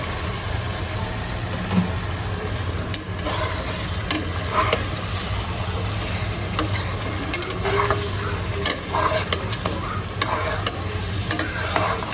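Spice paste fries in a pan with cooked masala, giving a continuous dense sizzle broken by repeated stirring scrapes and clinks, and a low steady hum runs underneath throughout.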